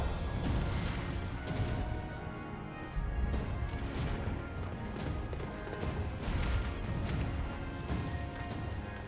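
A flashbang detonates in the video game Final Fantasy XIV, a dense, loud burst of crashing, booming impacts that rolls on for several seconds with no voice over it.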